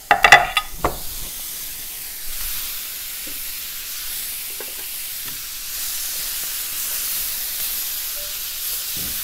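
Chicken fajita filling frying on high flame, a loud clatter of stirring at the start, then a steady, bright sizzle and hiss holding on evenly to the end.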